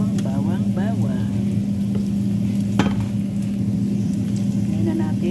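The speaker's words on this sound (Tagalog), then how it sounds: "lagay natin ang bawang" Garlic sizzling in a hot pan while cooking upo with sardines, a steady frying hiss with stirring clatter, a voice speaking briefly over it.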